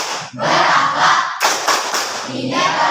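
A group claps out a rhythmic tepuk chant together, a classroom hand-clapping routine in Indonesia, with steady loud claps mixed with chanted voices throughout.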